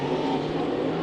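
Race cars in a heat race at Santa Maria Raceway, a steady loud engine roar filling the whole moment with no voices over it.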